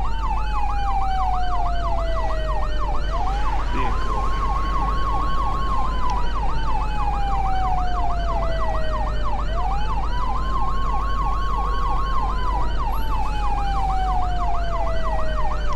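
A wailing emergency vehicle siren from the Flashing Lights video game, rising and falling in long, steady sweeps with a faster yelping layer beneath, loud and continuous throughout.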